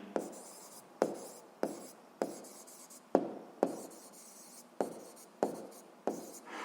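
A pen scratches across a notebook page up close in about ten short, evenly paced strokes, each a crisp rasp that fades quickly, with no voices.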